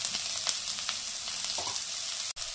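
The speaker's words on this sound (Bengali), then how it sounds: "একটু ভাজা ভাজা করে নেব" A whole chopped onion fries in a pan for a Bengali fish curry, giving a steady, close, dense sizzle with faint stirring clicks throughout and no talking.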